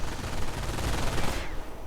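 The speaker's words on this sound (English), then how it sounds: "We are seeing Soviet naval infantry being equipped with the Karachev DP-28 light machine gun" DP-28 light machine gun firing in a Company of Heroes mod game, a dense rapid burst of automatic gunfire that cuts off abruptly near the end.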